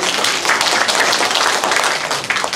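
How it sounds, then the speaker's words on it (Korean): Church congregation applauding during a Korean Sunday sermon, a dense, loud wash of many hands clapping continuously throughout, with no speech over it. "박수 한번 치주세요"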